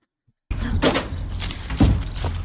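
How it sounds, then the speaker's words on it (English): A door swings open in a scary setting, its creaking and knocking arriving abruptly after a near-silent start, with a couple of louder thumps along the way. "A door suddenly swings open on its own and Sandra is spooked."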